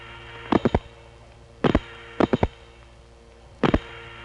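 Steady low electrical hum on step-by-step telephone exchange trunk lines in Harrisonburg, Virginia, recorded on tape in 1976, broken by four sharp clusters of switching clicks and clacks.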